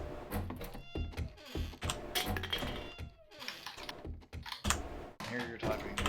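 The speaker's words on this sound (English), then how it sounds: "I hear you're typing." Rapid clicking of a mechanical computer keyboard during an online game voice chat, bursts of keystrokes heard up close alongside a cat's meows and talk.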